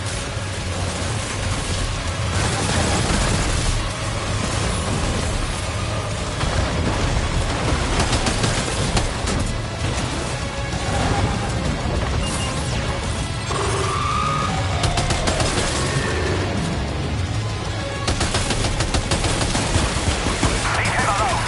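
Heavy gunfire in Death Stranding 2, with continuous bursts of automatic fire, crashes and impacts that form a loud, dense barrage across the whole stretch. A voice speaks briefly under the shooting.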